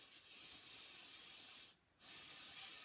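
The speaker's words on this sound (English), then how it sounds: "I also have here some foot spray that you can put on the face of the club" Foot spray hisses from an aerosol can onto the face of a golf club, a steady close spray that cuts off briefly and then resumes.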